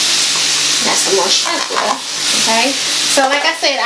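Shrimp seasoned with onion powder sizzle and fry in a pan for shrimp and grits, a steady close hiss running under a person talking.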